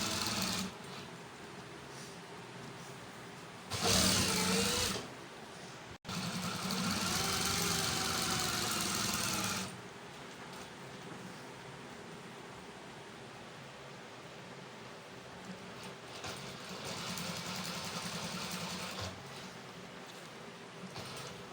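A sewing machine stitching along the edge of a qameez lining, running in loud steady bursts of fast mechanical whirring with quieter pauses between, close up and without talk.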